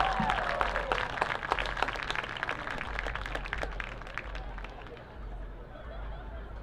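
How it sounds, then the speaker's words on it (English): Crowd applause at a high school football game, honoring the senior class: steady clapping and cheering from the stands, fairly distant, mixed with crowd chatter and gradually thinning out. "Let's give a big round of applause for the Red Raider class of 2025."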